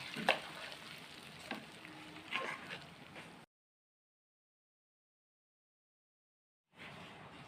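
A hot spice tempering is poured onto steaming vegetable khichuri, giving a soft crackling sizzle with a few sharp spoon clinks, then the sound cuts to silence before the frying noise briefly returns.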